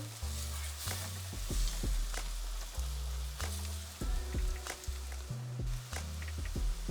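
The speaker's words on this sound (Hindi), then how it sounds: "मसाले को थोड़ा भूनेंगे." Spice masala with garam masala powder sizzles and fries in a pan for Kerala egg roast, a steady close crackle broken by repeated stirring scrapes, with no talk.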